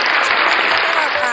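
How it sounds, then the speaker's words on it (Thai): Applause from a live audience at a singing competition, a dense, bright burst of clapping heard close and loud, continuing evenly throughout. "ขอเสียงปรบมือหน่อยนะคะ"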